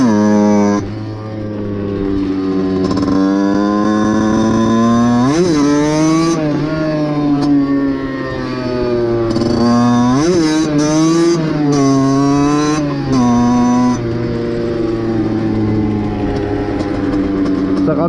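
A Katasaki 50cc dirt bike with a Minarelli engine runs close by with a steady, buzzing two-stroke drone, revving up and dropping back several times over the stretch.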